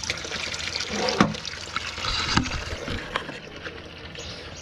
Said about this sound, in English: when I turn the water on, is filling the bucket too at the same time